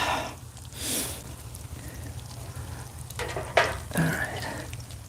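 Trout pan-fries in a skillet with a steady soft sizzle and crackle throughout, close and moderately quiet, with faint scrapes and stirring noises over it.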